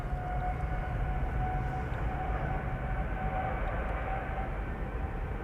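An Airbus A330 jet roars on departure at Amsterdam Schiphol Airport, a loud, steady, broadband engine rumble with a faint whine, heard up close and unbroken throughout.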